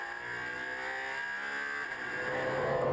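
Race cars, including a Fiat and a Porsche, drive a circuit at Ring Djursland during a late-summer race, with engines droning and revving at moderate distance in a steady high whine that builds slightly toward the end.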